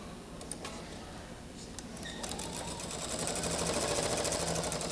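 A sewing machine stitches quilt pieces with a quiet, fast ticking rhythm that gradually builds and grows steadier over the few seconds, faint and alone with no talking.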